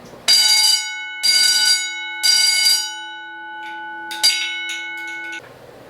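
A loud electric fire alarm bell rings in three sharp bursts about a second apart during a fire alarm system test, then a longer sustained ring, close and piercing.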